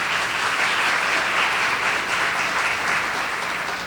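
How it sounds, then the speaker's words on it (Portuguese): An audience at a suicide prevention and anxiety conference in Rio de Janeiro applauds a speaker, a steady, full wash of clapping from many hands, sustained and fairly loud throughout. "Uma salva de palmas"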